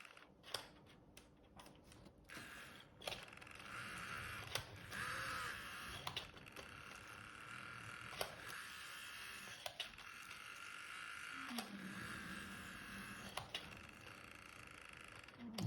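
A small N scale Graham Farish Class 66 model locomotive runs with a faint, steady motor whir broken by irregular light clicks and ticks, quiet and close.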